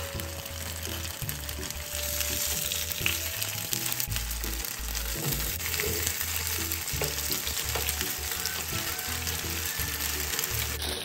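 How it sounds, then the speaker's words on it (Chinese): Radish cake pan-fries in a little oil in a nonstick pan over medium heat, a continuous crackling sizzle with a low background hum and occasional scraping, close and unbroken by speech. "再将萝卜糕放入，中火煎香。"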